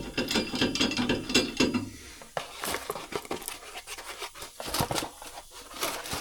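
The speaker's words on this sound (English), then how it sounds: "I have a cheap Harbor Freight cordless ratchet." Cheap Harbor Freight cordless ratchet whirring in a cargo trailer being converted into a camper, a dense, steady buzzing run that drops off, then scattered clicks and rubbing close by, with no speech.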